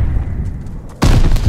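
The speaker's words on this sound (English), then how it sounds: "Mortars incoming." Mortar explosions in the World War II shooter Vanguard, heard as a steady roaring rumble of battle that suddenly jumps louder with a heavy blast about halfway through, with no talk.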